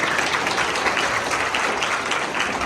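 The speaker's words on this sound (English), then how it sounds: "Shall we give a big round of applause?" Wedding guests break into a big round of applause, a dense, steady wash of many hands clapping at once that stays loud and even throughout.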